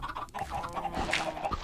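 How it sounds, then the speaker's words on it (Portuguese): Chickens clucking in Minecraft, several short close clucks and squawks overlapping in quick succession from birds on all sides, with no talk. "tem galinha de todos os lados aqui"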